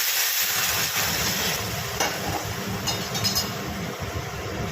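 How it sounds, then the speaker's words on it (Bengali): Chalta dal is poured into hot tempering oil, setting off a loud, continuous hiss and sizzle that holds steady from start to finish. "এবার ডালটা ঢেলে দেবো।"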